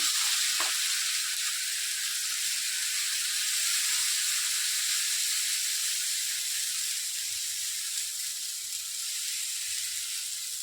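Farali handvo batter hits a hot pan with a loud, steady sizzle, a constant bright frying hiss that lasts throughout with no talking.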